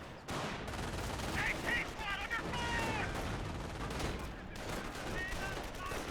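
Incendiary mortar rounds and rifle fire crackle through a Company of Heroes 1 battle, a steady din of small-arms bursts and dull thumps with a commentator's voice talking over it throughout.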